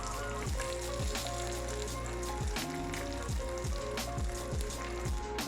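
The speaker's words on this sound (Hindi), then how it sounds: "और हल्की आग पे इसको फ्राई करना है, तेज़ आग पे इसको बिल्कुल भी फ्राई नहीं करना।" Potato tikki patties fry in a pan over a low flame, giving a continuous close sizzle with a faint tonal hum beneath it. The sound stays even, with no speech.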